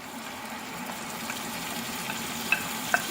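Tomato puree made from 400 grams of blended tomatoes goes into a hot pan of garlic chicken karahi, and a steady sizzle and bubbling frying hiss runs through with two small clicks near the end.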